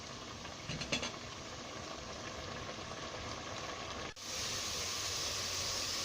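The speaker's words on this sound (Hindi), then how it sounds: "अब मैं इसका पानी खुश्क करती हूँ" A pot of mutton stew with whole spices simmers as its water cooks off, giving a steady, even hiss and bubble that shifts slightly brighter partway through.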